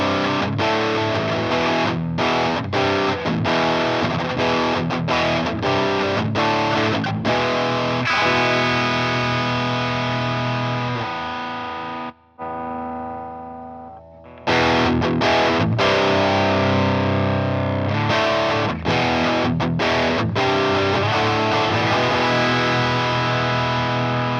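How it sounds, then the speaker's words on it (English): Electric guitar runs through a real overdrive pedal, giving a thick, heavily driven tone of strummed chords and riffs. A brief near-silent break with a faint ringing tail interrupts the playing midway, then the driven playing resumes loudly. "the actual pedal distorts quite a bit more and it still sounds a little bit juicier"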